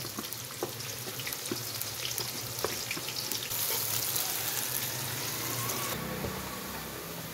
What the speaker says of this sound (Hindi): ऑयल गर्म हो गया तो ये डाल देंगे प्याज